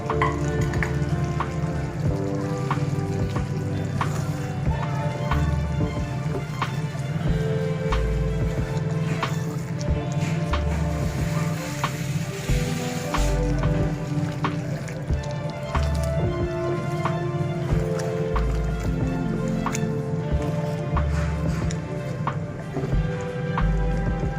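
Finely chopped green chilies frying in a pan of restaurant-style chicken karahi, a loud continuous sizzle with wet bubbling and frequent stirring scrapes throughout.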